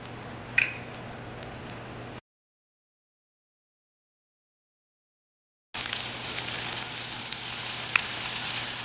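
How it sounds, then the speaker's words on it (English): Fish sizzling in hot oil for a Trinidad fry dry fish recipe, a crackly hiss with small pops, cut off by a stretch of silence before the frying resumes, steady and close. "So once the oil is hot, you just want to add in your fish."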